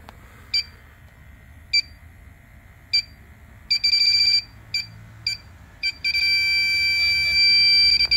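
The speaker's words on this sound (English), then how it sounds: "So I got the leak detector set to high," An electronic refrigerant leak detector set to high beeps sharply and evenly at first, then the beeps speed up into rapid bursts and a nearly continuous tone, loud and close with no talk.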